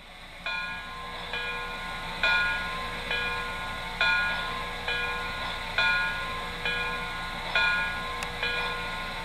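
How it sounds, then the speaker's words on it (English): An MTH model of the EST Class 241A steam locomotive rings its bell steadily, clanging at an even, unhurried pace for several seconds with a faint hiss underneath. "Here's the bell."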